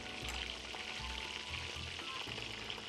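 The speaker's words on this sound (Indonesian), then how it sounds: "Sementara ikannya digoreng, kan lama tuh." Fish frying in hot oil, a steady dense sizzle with low bubbling pulses throughout, moderately loud and continuous with no talking.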